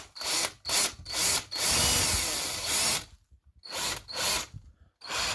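A power drill bores into a plasterboard wall in repeated loud, close bursts: several short spurts, one long continuous run in the middle, then more short bursts separated by brief silences.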